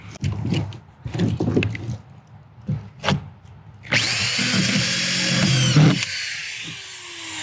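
A few knocks and handling sounds, then a power driver whirs loudly for about two seconds as screws are driven in quick succession, followed by quiet.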